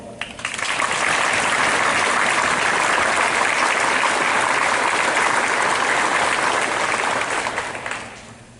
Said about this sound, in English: ask you to join me in applauding their effort